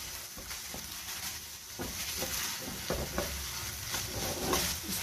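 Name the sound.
chicken mince with ketchup and spices cooking on high heat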